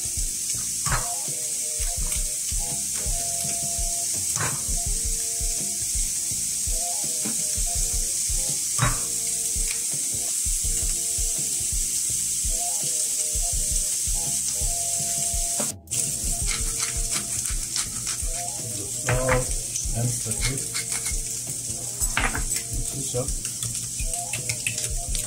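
Eggs frying in a pan alongside meat: a loud, continuous hiss and sizzle with crackles and clinks, and a voice talking over it at times.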